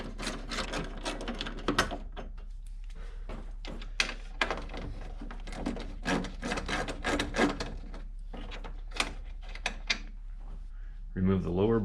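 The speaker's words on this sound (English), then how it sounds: "so I'll be using a 10mm socket as well as an Allen wrench." Mechanical clicks, rattles and ratcheting of a 10mm socket undoing bolts on a Honda Fit GK5 headlight, a series of short close taps and turns with pauses between, and a brief louder burst near the end.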